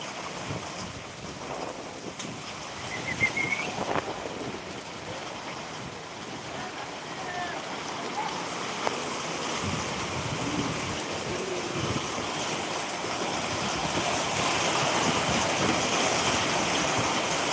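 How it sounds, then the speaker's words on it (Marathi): Heavy rain driven by strong wind in Jewali, a dense continuous roar with gusty buffeting on the microphone that swells louder toward the end, no voices. "मुसळधार पाऊस या ठिकाणी पडत असताना वाऱ्यांसह आपण पाहतोय"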